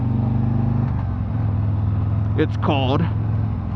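Drag race cars roar at a four-wide drag racing event in Concord, a steady loud engine drone filling the background beneath someone talking nearby.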